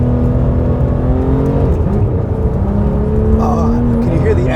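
A Porsche sports car engine on a track revs loudly and continuously, its pitch sliding up and down through gear changes, with a brief higher whine near the end.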